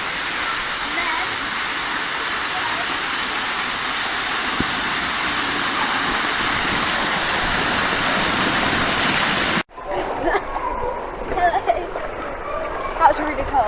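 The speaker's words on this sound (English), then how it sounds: "There's like these things and they rain down on you, but it's actually cold water." Cold water pouring down from overhead at a water park, a loud continuous rushing spray that stops abruptly, followed by quieter splashing and bustle.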